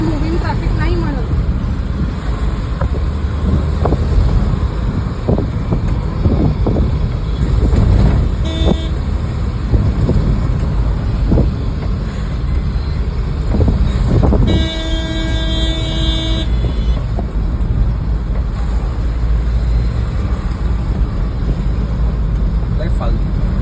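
Heavy stop-and-go road traffic on Thane's Ghodbunder Road, with buses and cars idling and creeping in a jam; a steady loud engine rumble continues throughout, with a sustained car horn blaring midway and shorter toots around it.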